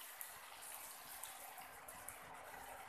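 Water being poured into a cooking pan of spiced curry with chili powder and ginger-cumin paste, a soft steady splashing gush lasting several seconds, fairly quiet and with no talking over it.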